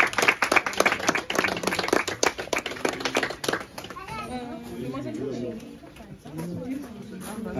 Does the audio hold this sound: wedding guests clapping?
yes